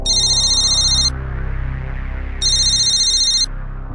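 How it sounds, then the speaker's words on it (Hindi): A telephone ringtone sounds for an incoming call in two bursts of bright, fast trilling about a second each, separated by a pause, over a low background hum. "किशोर को नौकरी के लिए फोन आया।"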